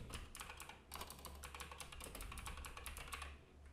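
A computer keyboard is typed on in a quick, steady run of close, crisp key clicks, faint overall, with the last keypress sending a ChatGPT prompt.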